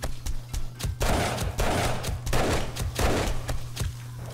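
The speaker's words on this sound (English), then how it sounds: "Turrets are working nicely already." Automatic turrets in the video game 7 Days to Die fire at a zombie horde during horde night, a rapid, loud, continuous burst of gunfire with sharp repeated shots and thuds throughout.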